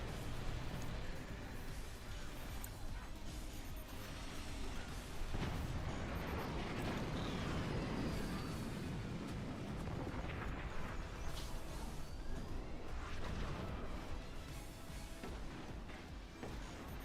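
Cannon and weapon fire with explosions in the Forts RTS video game during a 3v3 tournament match, a dense continuous barrage of booms and crashes that never lets up.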